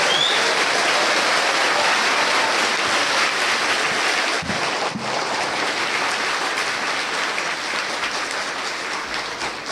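An audience at a spiritual gathering applauds, a dense steady clapping that carries on for about ten seconds and fades slightly toward the end.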